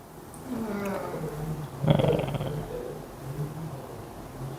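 A person's hiccups that sound like a whimpering puppy, a few soft squeaky whines with one sharper burst in the middle, heard faintly in a quiet classroom.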